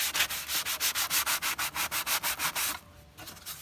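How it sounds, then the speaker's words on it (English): A sanding block scrubs back and forth over a welded glass-filled plastic part, about fifteen quick rhythmic rasping strokes close up, then it stops and only faint residual sound remains. "With a sanding block, we can just smooth over the surface and finish it up."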